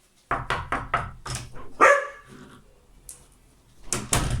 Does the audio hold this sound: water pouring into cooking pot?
no